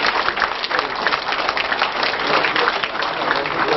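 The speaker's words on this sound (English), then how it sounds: "Can we have another resounding round of applause for our governor?" Crowd at a state economic summit giving the governor a loud, sustained round of applause, dense clapping throughout with voices mixed in.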